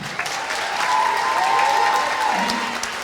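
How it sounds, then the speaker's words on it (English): A crowd at a graduation bursts into applause, a dense wash of clapping that swells and then tapers off. "Clap it up for Miss Sullivan."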